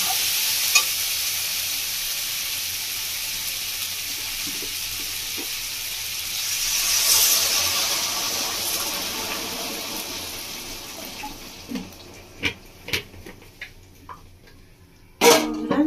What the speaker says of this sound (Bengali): এবার দিয়ে দেবো জল দিচ্ছি